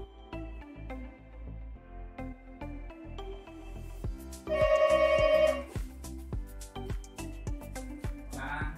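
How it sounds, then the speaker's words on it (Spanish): A telephone rings during a live comic-inking session, a bright electronic ringtone melody with a sustained ringing burst in the middle, heard over a background of tonal music with sharp clicks, no talking. "voy a coger un momento el teléfono que me están llamando"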